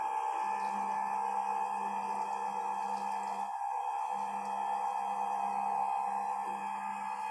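A blender motor runs steadily on its lowest speed while pumpkin is poured in slowly, giving an even, continuous mechanical hum with a tonal drone, close and without pauses.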